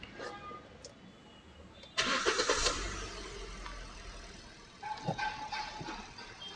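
A Kia Sonet, whose engine had a cylinder misfire, cranks and fires with a sudden loud catch, settles into a steady idle, then a second swell of revving follows.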